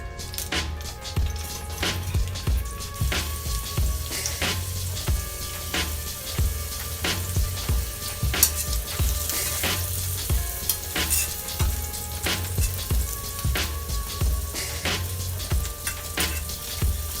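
Mushrooms sear face down in hot oil in a pan, giving a steady, close crackling sizzle with scattered sharp pops throughout.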